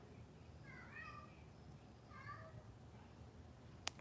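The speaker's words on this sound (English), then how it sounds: "Y'all hear Onyx meowing?" A pet cat named Onyx meows twice in a quiet room, each call a clear rising-and-falling mew about a second apart, followed by a sharp brief click near the end.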